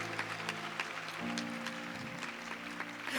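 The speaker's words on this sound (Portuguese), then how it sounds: "Pode aplaudir a palavra de Deus" A Catholic church congregation claps during a Mass, a fairly quiet patter of applause mixed with sustained music or voices in the background.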